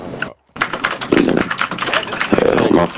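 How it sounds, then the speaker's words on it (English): A computer keyboard clatters with loud, rapid, uneven keystrokes in bursts during an online game session, close to the microphone after a brief dropout, with background chatter underneath. "Your keys are really loud though."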